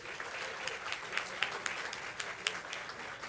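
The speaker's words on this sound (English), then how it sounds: "Let's get a choir round of applause." An audience at an MLK celebration event applauds a choir, giving a sustained crowd clap at moderate level with sharper individual claps popping out of the steady wash.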